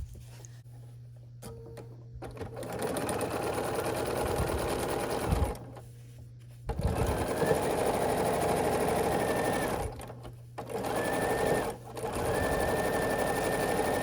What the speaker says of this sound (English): we're gonna sew the other side of the plus onto this in the same way we just did it before.